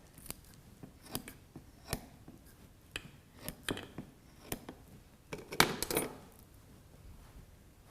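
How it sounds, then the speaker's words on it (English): Sharp scissor snips cut through a kidney during a dissection practical, a series of crisp, separate clicks at an uneven pace, close and fairly quiet, with a denser cluster of cuts near the end. "you want to continue your cutting all the way down the centre until you have two halves opened up"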